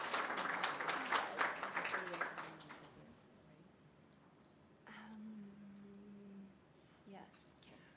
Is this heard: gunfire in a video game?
no